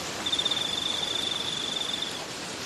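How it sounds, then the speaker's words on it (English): A cricket gives a continuous high, rapid trill for about two seconds at night, clear and fairly close over a soft hiss of background noise, with no one talking. "Who do them crickets love?"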